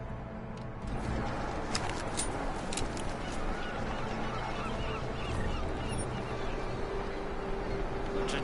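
Geese honking in a video game, scattered raucous calls over a dense, steady background of ambience, with the honks loud at moments and then fading under the noise.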